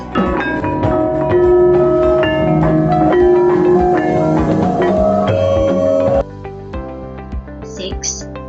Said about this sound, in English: here's the sound of Kenong and Kerto